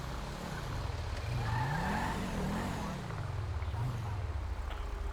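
Car engine rising and falling in pitch as a vehicle is driven and pulled over in GTA 5 with the LSPDFR police mod, a steady mid-level drone with mild revving throughout.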